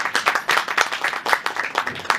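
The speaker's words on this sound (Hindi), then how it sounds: "एक बार जरा और दीपू भाई के लिए जोरदार तालियां बजाइए" Audience clapping at a trailer launch for a Hindi film, a steady round of many hands applauding together throughout, moderately loud and close, with no talk over it.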